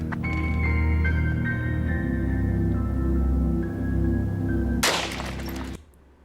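A gun fired in a test, heard as a single sharp, loud crack near the end that cuts through a sustained tonal background and then drops away.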